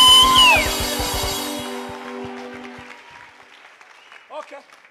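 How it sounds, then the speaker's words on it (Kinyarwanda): A church congregation applauds at a Friday evening worship concert, the clapping loudest at first over fading music and drums, then thinning out to quiet, with a brief voice near the end. "tumukomera amashyi Yesu."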